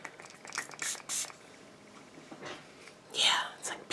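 Makeup setting spray and an Essence fixing spray release several short, soft hissing mist bursts close by, with quiet whispery voice sounds in between.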